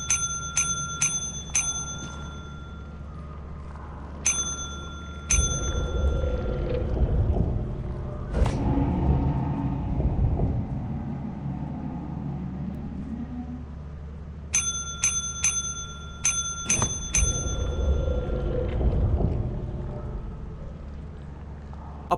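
A bicycle-style bell in Lethal Company is rung in quick bursts of bright, ringing dings, a cluster near the start and another later, separated by low rumbling and groaning ambience.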